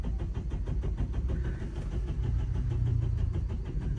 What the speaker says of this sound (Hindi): सेल्फ ले रही है गाड़ी, स्टार्ट नहीं हो रही